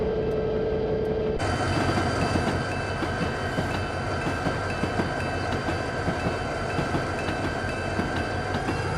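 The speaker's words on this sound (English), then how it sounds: "Look how long this train is." Long train rolling past in Train Simulator Classic, a steady loud rumble of wheels and wagons with rhythmic clacking over the rails, continuing without pause; no one speaks.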